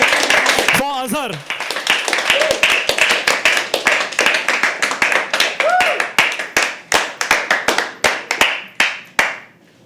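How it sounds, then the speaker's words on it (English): A small audience at a live poetry open mic at The Habitat claps for the next performer. A host's voice cheers at the start, then crisp, close hand claps follow and gradually slow and thin out before stopping. "can we have a huge round of applause for our next performer?"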